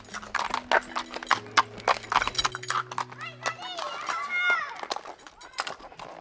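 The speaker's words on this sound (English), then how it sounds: "The horses here are usually used to transport heavy stuff" Horse hooves clip-clop on the ground in an Albanian village, a quick run of close, sharp strikes mixed with people talking, then a brief horse snort or whinny near the end.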